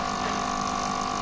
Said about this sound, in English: the electronic card is filling the boiler